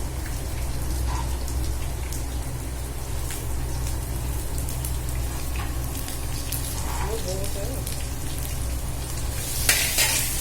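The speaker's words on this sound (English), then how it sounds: "So in this I will be putting the onions now. See friends, the onion goes in." Onions frying in a pan of oil for dum pulav, a steady sizzling hiss that runs for the whole stretch with small crackles, fairly close and loud, with no talking over it.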